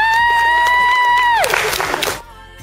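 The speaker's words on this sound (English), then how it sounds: "Please give Gigi Lo a big round of applause for being so brave" At a book launch, a sustained tone slides downward and gives way to a short burst of crowd clapping and cheering, which lasts well under a second before cutting off to quiet.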